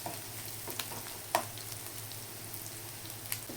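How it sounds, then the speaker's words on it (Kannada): Onions fry in oil for a Chettinad chana gravy, a steady soft sizzle with faint crackles and an occasional sharper pop or utensil tap, close by and fairly quiet, with no talking. "ಈ ಥರ ಎಣ್ಣೆ ಸ್ವಲ್ಪ, ಈರುಳ್ಳಿ ಎಲ್ಲ ಸ್ವಲ್ಪ ಕಲರ್ ಚೇಂಜ್ ಆಗೋವರೆಗೂ ಹುರ್ಕೋಬೇಕಷ್ಟೇ"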